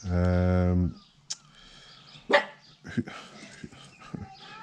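A dog barks once in a long, loud, drawn-out bark at the start, followed by faint yips and sounds of movement while someone talks quietly in the background.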